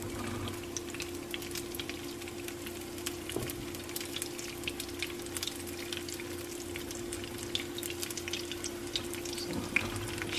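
Pancake batter frying in hot oil, a steady crackling sizzle with fine popping throughout, fairly quiet and continuous, with no voices.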